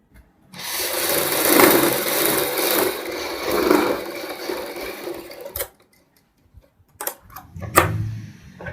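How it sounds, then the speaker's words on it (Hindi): A sewing machine stitches fabric along a marked line while making an off-shoulder top. It whirs steadily for about five seconds, then stops, followed by a few short bursts of stitching. "दूसरी साइड भी इसी तरीके से सिलाई लगाएंगे।"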